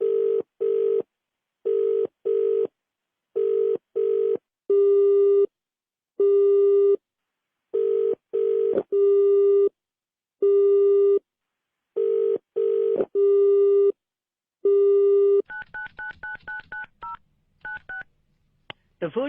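A phone call is dialled for a prank call, with a repeating pattern of loud ringback tone bursts separated by gaps, followed by a run of rapid keypad dialling beeps near the end.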